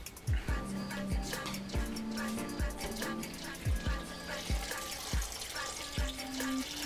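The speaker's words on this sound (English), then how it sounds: "now we're going to add the water to the vegetables" Water pours and splashes steadily into a pot of vegetables for Belgian waterzooi stew, with clinking drips and a few knocks against the pot, close and continuous for several seconds.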